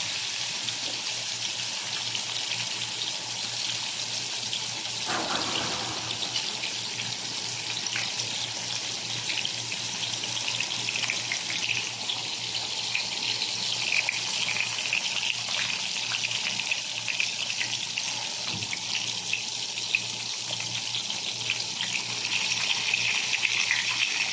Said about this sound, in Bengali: আমি মাছটি দিয়ে দিচ্ছি